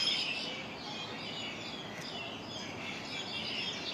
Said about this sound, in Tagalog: Daming ibon. Tit, tit, tit, tit.